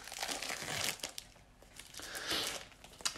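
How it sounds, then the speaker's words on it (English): Plastic wrap crinkles and tears close up as oversized cards for the Bees The Secret Kingdom board game are opened, a short stretch of crackling bursts with no talk. "Let's see if we can't crack these cards open."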